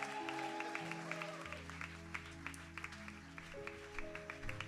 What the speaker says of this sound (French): Est-ce que c'est pas normal que tout le monde acclame le Seigneur pour ces personnes?